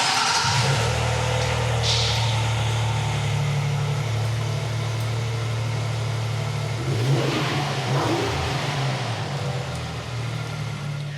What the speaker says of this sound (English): let's go ahead and take a listen to what that V6 sounds like